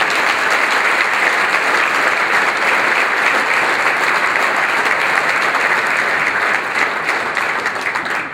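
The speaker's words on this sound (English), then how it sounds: "Give him a great round of applause." A luncheon audience at a basketball fund event claps warmly, a dense, sustained round of applause that holds steady and tapers slightly at the end, with no talking over it.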